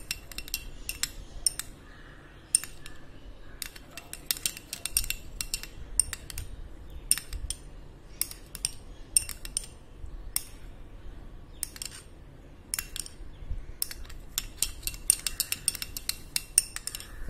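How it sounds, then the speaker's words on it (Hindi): A face pack with lemon juice is mixed in a bowl, with a spoon scraping and clinking against the bowl in quick repeated taps and bursts, close and fairly quiet, with no talk. "इसे अच्छे से मिक्स कर लेंगे।"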